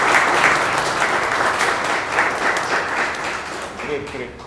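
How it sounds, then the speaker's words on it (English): An audience at a business event on entering the US market gives a warm welcome to the incoming speaker, with full, sustained clapping that stays fairly steady for several seconds before easing slightly. "Let's give him a very warm round of applause."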